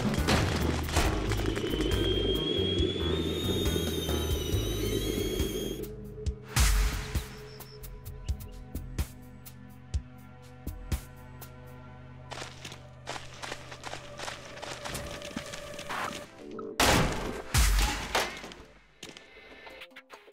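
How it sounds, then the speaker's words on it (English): An explosion at the RV in Goat Simulator: GoatZ starts as a loud sustained roar that cuts off sharply, then gives way to scattered booms, thuds and crackling bursts, with no talking. "After the explosion"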